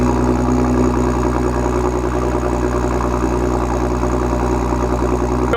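Idle of an Audi B9 S4, its single-turbo V6 running a full exhaust and JB4 tune, a steady low rumble that holds evenly throughout and stays close.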